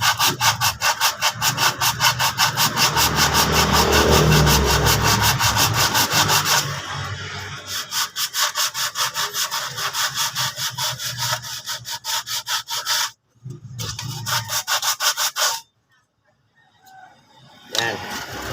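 A brake shoe being filed down to fit a brake drum during wheel cylinder and brake shoe installation, heard as steady rapid rasping strokes up close, then sparser, irregular scraping with brief pauses near the end.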